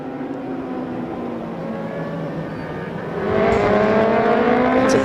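Race car engines roar steadily at high revs during a celebratory burnout after an Asian motorcycle or car race, growing louder partway through as the revving intensifies, with no voices.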